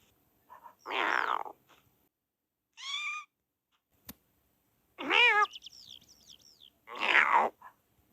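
A cat meows several times in separate drawn-out cries, some high and wavering, with quiet pauses between them and no talking.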